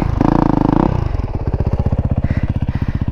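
Dirt bike engine revving hard and climbing a steep hill of loose beach sand in second gear at wide open throttle, a loud, close, steady pulsing drone after a brief higher burst of revs.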